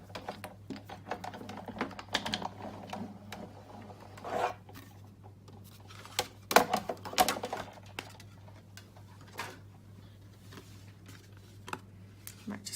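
A die-cutting machine cranks card stock through with a series of faint, irregular clicks and ratcheting taps, quiet and close, with a few slightly louder knocks scattered throughout and no talking.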